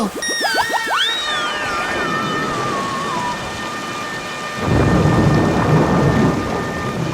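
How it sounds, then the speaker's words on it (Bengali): A loud thunderclap rumbles with steady rain. Sweeping tonal whistles open the sequence, and the rain swells into a heavier downpour near the end. "দেখলে তো কি জোরে বাজ পড়লো সঙ্গে সঙ্গে।"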